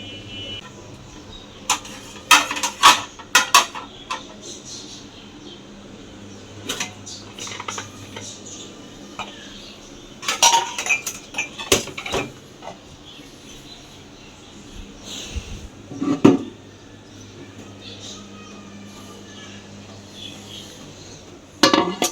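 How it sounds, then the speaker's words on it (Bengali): Metal spoons clink and rattle as they are sorted into a two-sided spoon holder in a home kitchen, in several short bursts of clatter separated by quieter pauses. "চামচগুলো এখন সুন্দরভাবে আমি গুছাইয়া রাখতে পারি এটার মধ্যে।"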